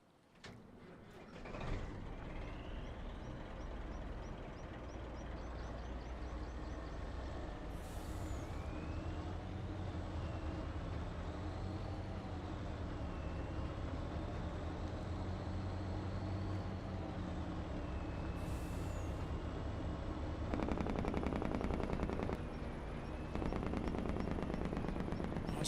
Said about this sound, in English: that sound right there is the whole reason why I got into trucking. The Jake brake.